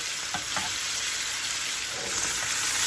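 A ribeye steak, cooked sous vide first, sears in a hot pan, giving a loud, continuous close sizzle with a few soft scraping touches and no talk.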